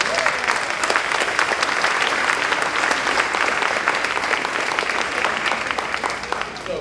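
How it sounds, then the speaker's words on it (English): Audience applause at an elementary school spring concert fills a hall, a dense, sustained clatter of many hands that holds steady from start to finish, loud and close, without voices. "Can we get a round of applause for this being"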